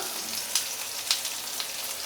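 Chopped onions and green chillies sizzling in hot oil with mustard and cumin seeds, a steady close frying hiss with a few brief pops, no talking.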